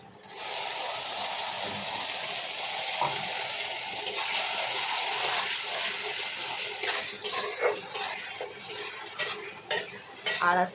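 Onion paste with green chili paste goes into a pan for mutton curry and is stirred steadily, with a continuous sizzle, scraping and clinking of a spoon against the pan, getting busier and more clattery toward the end.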